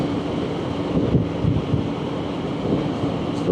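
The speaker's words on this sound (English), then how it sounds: "I hate wind." Wind buffets a rider on a BMW K1600 GTL motorcycle near Los Alamos, New Mexico, as a constant loud, low roaring rush with gusty swells over the ride and no voices.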